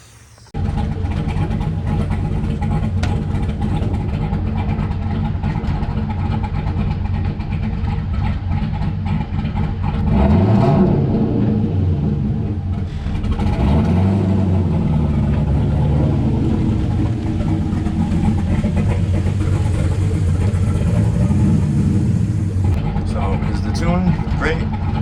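A turbocharged NASCAR race car at a car show, its engine droning steadily and loudly throughout while driving, with a rising and falling rev swell in the middle and talking over the engine.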